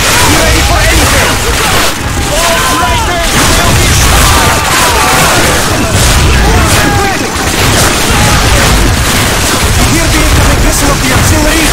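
Artillery shells burst repeatedly in Call of Duty Finest Hour on the Eastern Front at Stalingrad, loud booms and crashes packed densely together amid constant gunfire and battle din, with shouting voices mixed in.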